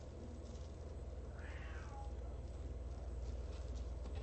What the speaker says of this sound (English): Oh goodness, guys, my cat.